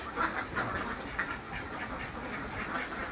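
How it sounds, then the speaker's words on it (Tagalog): Ducks at a resort in San Luis quack in a loose chorus, several raspy calls repeating close by over a steady outdoor background hiss. "Mga itik na yun."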